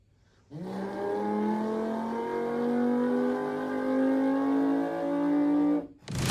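A person vocally imitates a Lamborghini Huracan 5.2 liter V10 revving, one sustained, loud, close rising engine tone with rich harmonics that climbs steadily for about five seconds and then cuts off abruptly.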